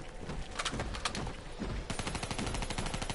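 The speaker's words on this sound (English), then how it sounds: "I hear gunshots." Rapid bursts of gunfire crackle continuously in Call of Duty: Black Ops Zombies, quick repeated shots with a dense, compressed sound over background noise.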